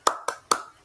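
Three sharp, evenly spaced hand claps, close and fairly loud, from a class doing a rhythmic spirit clap.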